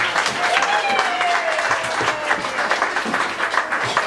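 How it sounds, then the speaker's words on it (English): Audience at a family-friendly improv comedy show applauding as performers are called up on stage, with dense, loud clapping running steadily throughout, plus a faint whistle and crowd murmur mixed in. "Give me a round of applause."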